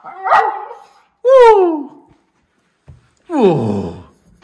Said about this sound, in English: Are you gonna howl for me?